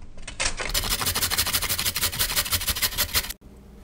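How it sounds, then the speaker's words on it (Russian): Rhythmic scraping strokes of a carrot being grated on a coarse grater, fast and close, ending abruptly with a short pause. "Морковку трем на крупной терке."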